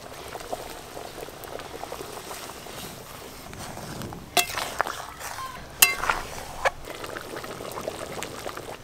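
A pot of curry simmers and bubbles steadily while a ground seed and poppy seed paste is added, with a few soft utensil clinks and a splash or two over the constant boiling hiss.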